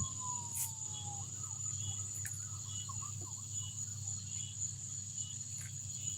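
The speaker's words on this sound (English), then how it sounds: "I'm hearing multiple sirens." Faint sirens wail in the distance over a steady insect-like drone and low background hum, with no one speaking.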